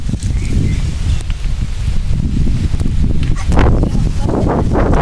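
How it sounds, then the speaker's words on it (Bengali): Strong storm wind roars steadily through mango tree leaves, a loud, broad rush with gusty surges and rustling bursts near the end. "বাতাস হচ্ছে"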